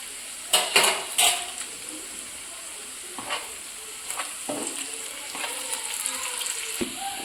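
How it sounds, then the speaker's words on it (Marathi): Ginger garlic paste and three chopped green chillies hit hot oil in a pan while a broccoli dish is cooked, giving a soft continuous sizzle broken by a few scraping stirs and clinks of a utensil. "तर आपल्याला आलं लसूण पेस्ट टाकायची आहे आणि मी 3 हिरव्या मिरच्या कापून"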